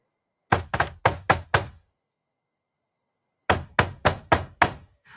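Two rounds of sharp knocks on a door, five firm raps each, loud and close, separated by a few seconds of silence.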